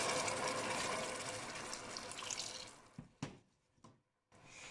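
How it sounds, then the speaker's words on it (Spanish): Clam broth, 300 ml, is poured into a pot of clams with artichokes and broad beans, a steady liquid rush that tapers off, followed by a few sharp clinks and a short faint resumption. "Agregamos el caldo,"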